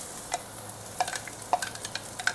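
Cooking oil heating in a fast-warming pan before clams go in for a stir-fry, soft spitting crackles and small pops over a low hiss, close and fairly quiet.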